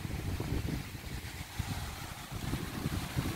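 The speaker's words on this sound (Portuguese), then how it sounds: "O vento tá forte." Strong wind blowing across an open farm as rain approaches, buffeting the microphone with loud, gusty low rumbles that surge and ease irregularly throughout, with no talk.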